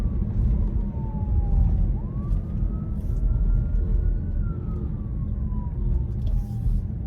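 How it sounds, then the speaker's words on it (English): An ambulance siren wails, rising and falling slowly over steady road and engine rumble, moderately loud, as if from a vehicle passing nearby in traffic in Savannah. "I don't know where that ambulance is going."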